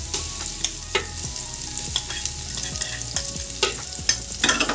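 Ginger and garlic paste frying with fried onion paste for a duck curry, a close, steady sizzle broken by repeated spoon scrapes and knocks against the pan.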